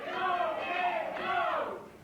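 A pro wrestling arena crowd chants in unison, two rising and falling rhythmic phrases of many voices filling the hall, loud and reverberant.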